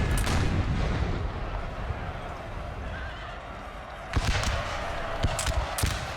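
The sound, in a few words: artillery fire in Napoleon Total War video game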